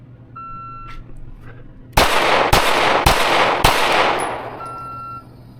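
Four sharp, loud pistol shots from a Fusion Firearms XF Pro during a shooting drill, fired in a quick, fairly even rhythm, with electronic beeps before and after.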